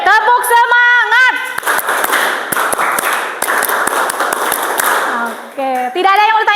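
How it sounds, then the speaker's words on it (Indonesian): A classroom of students performs the rhythmic 'tepuk semangat' clap: sharp, evenly spaced claps ring out between loud chanted voices at the start and end. "Tepuk semangat."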